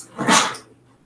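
A single short, breathy burst, close and fairly loud, followed by quiet — a dog's sneeze-like snort.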